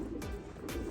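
Pigeons cooing close by, two soft, low, rounded coos about half a second apart, faint and with no talk over them.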